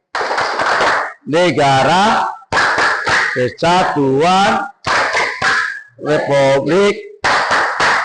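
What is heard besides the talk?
Tepuk NKRI rhythmic group clapping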